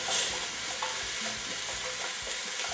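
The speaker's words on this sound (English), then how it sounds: "bell peppers, chopped like this, and we add that there. And we stir that around" Chopped bell peppers and onions sizzle softly in a pan while a utensil stirs them, with scattered light scraping and tapping over a quiet, even frying hiss; no one talks.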